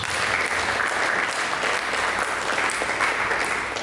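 A church congregation during a sermon gives loud, dense, continuous applause, an even roar of many hands clapping together with no talk over it.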